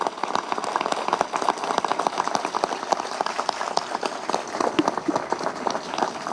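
Audience at a municipal restaurant opening in Eyüp, Istanbul, applauding for Mayor Ekrem İmamoğlu, a steady dense patter of many hands clapping at middle distance, even and sustained throughout.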